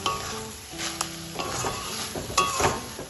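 A spoon stirs a spiced brinjal and drumstick flower chorchori curry in a pan just after water is added, with scraping strokes over a steady sizzle and occasional clinks against the pot.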